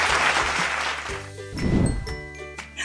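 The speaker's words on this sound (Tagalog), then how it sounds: "Ang tamang sagot ay palakpak." Brief burst of clapping from a small group in a children's sound-guessing lesson, with tinkling jingle tones and a chime mixed over it.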